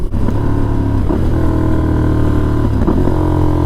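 A KTM Super Adventure S motorcycle engine roars loudly and steadily up close while riding, its pitch dropping in stepped shifts as the rider downshifts, with no talking.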